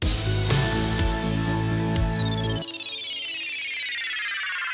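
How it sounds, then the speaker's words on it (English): A synthetic electronic tone sweeps steadily downward in pitch over a sustained musical chord, fading out as the low end drops away midway. "There's this video game descending sound."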